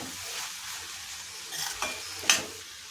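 A vegetable filling with tomato ketchup gets stirred in a pan for bread toast, with a soft sizzle and a few spoon scrapes and clinks against the pan near the end.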